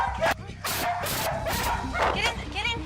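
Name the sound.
dog barking and whimpering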